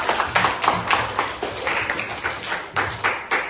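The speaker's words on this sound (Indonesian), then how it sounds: "mari berikan tepuk tangan kepada kita" Classroom applause after a student's story on World War Two in a literacy ambassador contest, a loud near clatter of many hands in uneven pulsing waves with a little talk mixed in.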